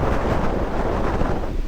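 Strong wind ahead of Typhoon Inday roars continuously across farm fields, a loud, close gusting rush buffeting the microphone with no break.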